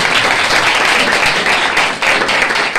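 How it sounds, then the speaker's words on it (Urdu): Loud, dense applause from a church congregation during a sermon, continuous rapid clapping filling the whole stretch with no break. "زوردار تالیاں لگائے خدا کے نام"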